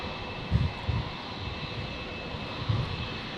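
A QantasLink Dash 8 turboprop arriving at Brisbane airport, a faint, distant engine drone with a soft whine and a few low rumbling thumps, no voices over it.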